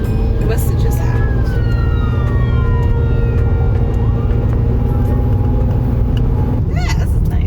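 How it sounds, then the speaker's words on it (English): An ambulance siren wails along a street near a US beach, its tone sweeping down and rising again over a constant rumble of traffic and engine noise. "There's an ambulance."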